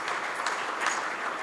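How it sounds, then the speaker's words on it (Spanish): Church audience applauds pastor Miguel Vargas, a brief, steady wash of clapping at moderate volume with no voices over it. "Un aplauso, por favor, aquí al pastor Miguel Vargas."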